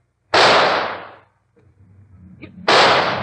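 Two loud, sharp gunshots ring out in a radio drama scene with an escaped animal, each a sudden blast with a decaying tail, separated by a short gap with faint low sounds between them.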